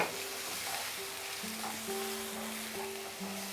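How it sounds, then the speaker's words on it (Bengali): Onion paste fries in a pan over medium heat for an Amritsari chicken curry, a steady, soft hiss of sizzling oil with a faint background hum and no talking. "মাঝারি আঁচে আমি পেঁয়াজটাকে ফ্রাই করছি।"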